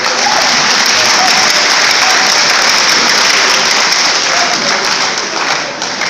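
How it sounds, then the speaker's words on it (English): A crowd at a tourism day celebration gives steady, loud, sustained applause that carries on evenly throughout with no break. "Let's give a round of applause"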